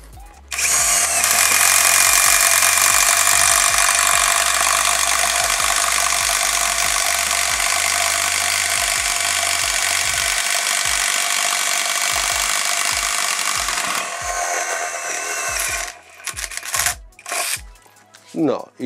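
A WORX WX261 cordless driver fitted with a sharp bit drills steadily into wood, a loud continuous whine lasting about fourteen seconds before it stops, followed by a few brief handling knocks.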